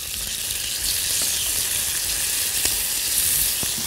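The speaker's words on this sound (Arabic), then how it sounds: "بص هحط هنا معلقه توم مفروم" Minced garlic sizzles steadily in a small amount of hot oil, a dense close frying hiss throughout with a few faint clicks and no talk.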